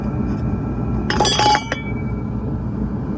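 A metal transmission part is dropped into place during a gearbox rebuild, giving a brief cluster of bright clinks and rattles about a second in, heard close against a steady background hum.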